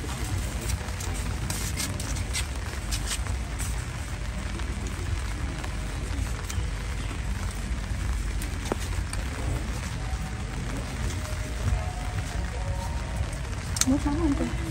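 Steady rain falls on surfaces outdoors as a constant broadband patter, with people talking faintly underneath.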